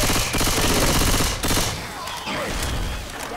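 Dense automatic gunfire and overlapping shots in the zombie shooter Left 4 Dead 2, a loud continuous fusillade with bursts stacking up, then easing slightly toward the end.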